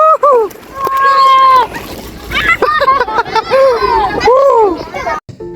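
Children laugh, shout and chatter loudly close by aboard a boat on the water at the edge of Bekasi, with soft sloshing and splashing underneath.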